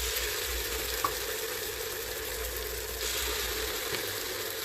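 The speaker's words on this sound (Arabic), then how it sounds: "هنزل بقى بالصلصه." Tomato sauce poured onto minced garlic frying in a pan, giving a steady, close, broadband sizzle that holds evenly throughout with a faint tap near the start and no voices.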